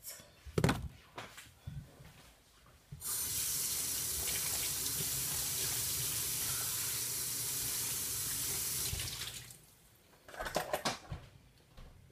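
Water runs from a kitchen tap into a measuring cup for about six seconds as a steady, bright rush, framed by clunks and handling knocks before and after.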